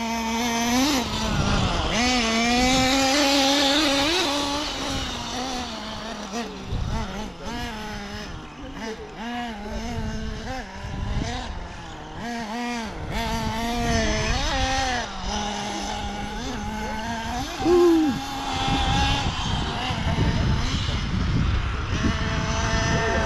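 A small nitro engine in an RC stadium truck whines and revs, pitch rising and falling as it speeds up and slows, with a voice talking over it at times.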